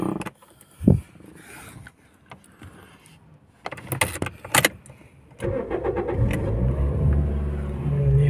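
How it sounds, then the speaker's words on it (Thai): Someone turns the key in a 2005 Toyota Vios with a manual gearbox, and after a few jangles and clicks the engine cranks and starts, settling into a close, steady idle. "เดี๋ยวลองสตาร์ทดูนะ"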